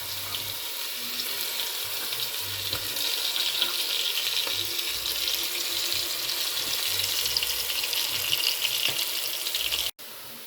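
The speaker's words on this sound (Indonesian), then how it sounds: "kalau minyaknya panas, kita masukin bumbunya" Rendang spice paste fries in hot oil with a steady, loud, close hiss and crackle that runs unbroken for about ten seconds before a brief cut near the end.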